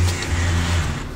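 A car engine revs loudly nearby, a deep throaty growl with crackling exhaust pops, brief and unbroken.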